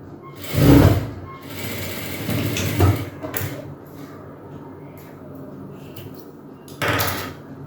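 Sewing machine stitching fabric for a pair of shorts, with a couple of louder bursts of motor whirring between quieter handling and clicks, close by.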